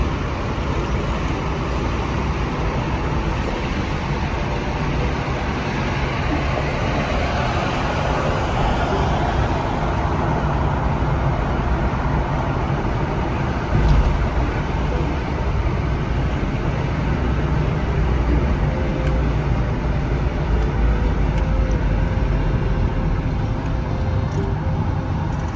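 Steady, dense roadway roar of cars, buses and trucks passing along a UK highway in Beckton, London, a continuous loud wash of traffic noise with no pauses.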